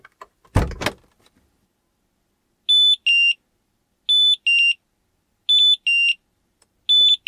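A car door thumps open, then a Compustar alarm sounds in repeated pairs of sharp electronic beeps, close and loud, with silent gaps between each pair.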